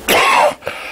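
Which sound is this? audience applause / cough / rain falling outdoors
cough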